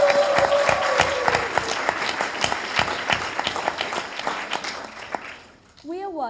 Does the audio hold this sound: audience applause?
yes